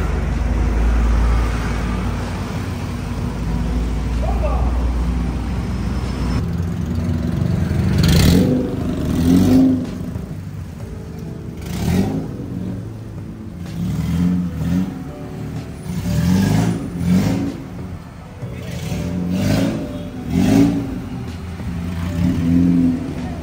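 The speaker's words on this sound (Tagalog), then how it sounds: "Testing natin ngayon gaano kaingay ba talaga to pag nakalapat sa kalsada" A 1999 Honda Civic SiR's VTEC engine idles on the road, then from midway rips through a string of loud, sharp revs that rise and fall repeatedly, close by and with no talking.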